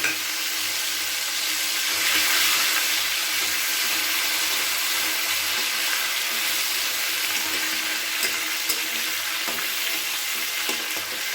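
Fish fat hits hot oil tempered with cumin seeds and bay leaf, producing a steady, dense sizzle and hiss that continues evenly, close and unbroken by talk.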